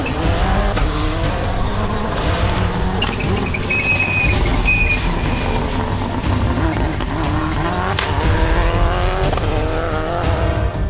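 A Subaru Impreza WRC rally car charges along a snowy gravel stage in the Auvergne, its engine roaring loud and constant with rising and falling revs, gear changes and brief tire squeals.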